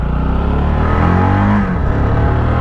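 A Mash TT40 400cc motorcycle pulls away and accelerates, its engine note loud and close, rising steadily in pitch with a rough, rumbling low end and no talk over it.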